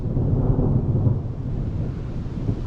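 Low, rolling thunder rumbles through an afternoon thunderstorm, a steady deep roar mixed with light rain and some wind on the microphone, with no voices.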